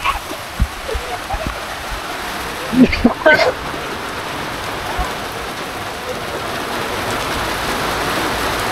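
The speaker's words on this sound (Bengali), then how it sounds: "বৃষ্টি নেমে গেছে" Steady monsoon rain pours down on the rose village of Golap Gram in a dense, even hiss throughout, with a brief cluster of louder splashes or clatter partway through.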